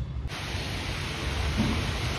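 A continuous soft hiss of heavy rain falling in Bangalore, even and unbroken, heard close by for a couple of seconds.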